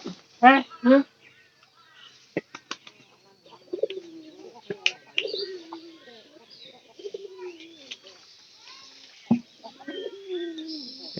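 Pigeons circling in search of water give low, warbling coos in several close phrases, mixed with sharp clicks and a person talking nearby.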